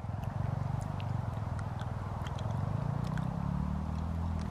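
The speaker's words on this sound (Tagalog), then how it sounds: "Naririnig nyo yun, parang may motor, no?" A neighbour's motorcycle engine runs steadily in the distance as a low, continuous rumble, with faint birds chirping in nearby bushes and no talking.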